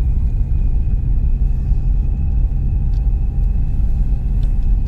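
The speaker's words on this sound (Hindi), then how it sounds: "पहले गियर में ही गाड़ी चल रही है" A Ford EcoSport grinds uphill in first gear on a mountain road near a Shiv temple in Chail, Himachal, its engine giving a steady, loud low rumble throughout with no voices.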